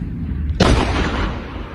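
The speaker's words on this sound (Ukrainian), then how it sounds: "Постріл!" A single loud gunshot bursts out near Bakhmut, followed by a rumbling echo that fades over the next second.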